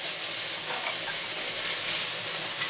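Mustard seeds sizzle in hot oil with a steady, loud, bright hiss and faint crackles throughout, close up and without talk.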